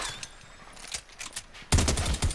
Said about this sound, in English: They're shooting, they're shooting, they're shooting.